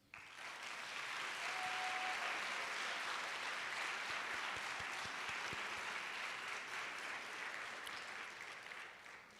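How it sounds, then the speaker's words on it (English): Long, sustained applause fills the room at a physician associate studies awards ceremony, a broad wash of clapping that swells quickly, holds steady for several seconds, and tapers slightly at the end. "please join me in giving the audience a big round of applause"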